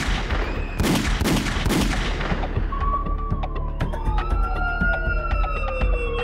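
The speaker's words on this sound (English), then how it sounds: "the peaceful quiet was shattered by the sound of gunfire" Several sharp gunshots crack out in quick succession near a home in a quiet rural community outside Los Angeles early in the morning. A wailing siren then rises and sweeps steadily on its own.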